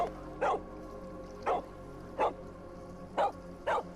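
A dog in a PSVR2 virtual reality game barks five times in sharp, evenly spaced single barks, loud and close over a quiet background hum.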